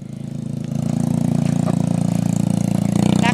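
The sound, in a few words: motorcycle engine running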